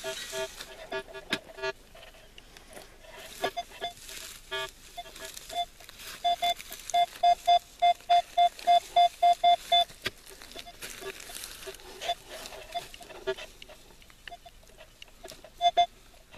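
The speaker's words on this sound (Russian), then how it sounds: "А здесь, смотрите, какой красавец сигнал." A metal detector sweeping a vegetable garden gives a strong signal over a buried target, a clear run of evenly spaced electronic beeps in the middle, with scattered quieter chirps and scraping around it.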